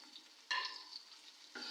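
Masala with yogurt and green chillies sizzles and frying in a pan for stuffed karela, a soft hiss that jumps louder twice as it is stirred, no one talking.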